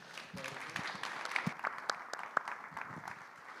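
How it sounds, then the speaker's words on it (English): Scattered applause from a panel discussion audience on AI-driven business, fairly sparse and moderately quiet, with individual sharp claps standing out over a thin wash of clapping. "So I would just give a round of applause to the panelists today."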